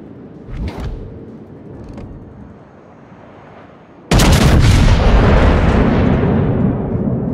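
Naval artillery from a warship in the World of Warships video game: faint scattered pops give way to a sudden, loud, sustained roar of cannon fire that rumbles on for several seconds.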